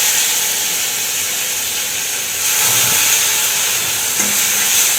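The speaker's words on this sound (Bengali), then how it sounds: "ওই যে ওটা ইলিশ মাছের তেলও আছে আর এমনি মাছের বেটুর মাছটারও তেল আছে, একসঙ্গে দুটো ভাজা হবে।" Hilsa fish fat and marinated fish fry together in hot oil, making a loud, steady, close hiss that keeps up unbroken throughout, with a faint knock near the end and no voices.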